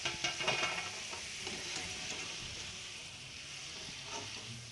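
Potato french fries frying in hot oil, giving a steady close crackling sizzle with brief bursts of stirring early on, and no voices.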